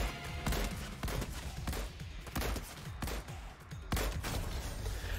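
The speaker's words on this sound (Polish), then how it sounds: "Słychać strzały, ale jeszcze ich nie widzę." Rapid gunfire in a Fortnite match, sharp repeated shots cracking in irregular bursts at moderate distance, with no talking over them.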